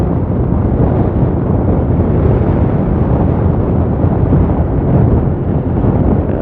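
Constant heavy wind buffeting while riding a motorbike toward Jabal al-Lawz, a dense unbroken roar with no pauses, as if rushing past at speed.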